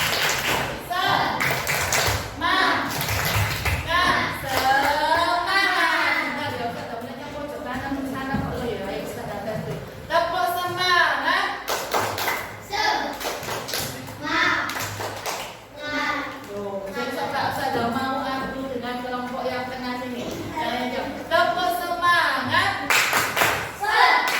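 A primary school maths class does a rhythmic spirit clap, bursts of clapping and tapping mixed with a voice speaking throughout.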